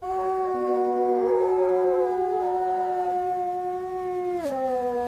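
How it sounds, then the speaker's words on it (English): Several dogs howl together in sustained, overlapping wavering tones that hold steady and then dip near the end, loud and close, with no talking. "Reports of dogs howling incessantly."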